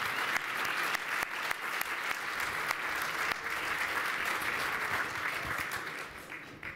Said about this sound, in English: I think we all owe a round of applause to Laura Noble